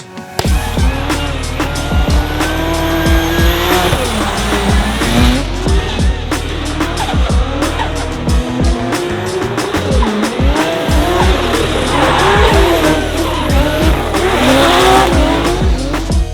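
A BMW F22 drives hard with a loud, continuous engine roar and long, repeated tire squeals and skids, revs rising and falling throughout, close and dominant.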